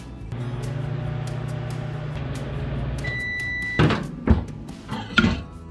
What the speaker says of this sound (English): you're going to want to put this in the microwave for about a minute